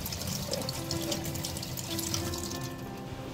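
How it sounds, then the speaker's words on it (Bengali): Two brinjals being washed under a running kitchen tap, a steady close stream of water splashing and trickling over the vegetables in a sink, continuous throughout with no talking. "প্রথমে আমি বেগুন দুটো খুব ভালো করে ধুয়ে নেব।"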